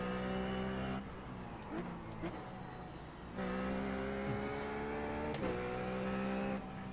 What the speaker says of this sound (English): Putting some high flying pressure on what looks to be the number 4 car of Aurelio Leniotti.